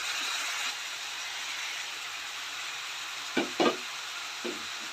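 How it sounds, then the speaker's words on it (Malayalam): Chopped onion and tomato go into a hot pan of chicken for a simple chicken curry, giving a steady close sizzle with a few soft thumps and stirring knocks partway through. "ഇനി ഇതിലോട്ട് നമ്മൾ എടുത്ത് വെച്ച ഉള്ളിയും തക്കാളിയും ഒന്ന് ചേർത്ത് കൊടുക്കാം."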